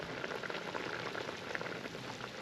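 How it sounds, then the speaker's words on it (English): Water boils around oxtail in a pot outdoors, a soft continuous bubbling and hissing that stays faint and even throughout, with no voices. "Still some time left for this water to boil out, but it's doing its thing."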